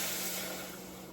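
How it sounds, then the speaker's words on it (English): Beef broth poured into a hot pan for meatloaf gravy, a loud broadband sizzling hiss that starts at full strength and slowly eases over about a second, with no talking. "our pan is heating up. We're going to go ahead and pour this in."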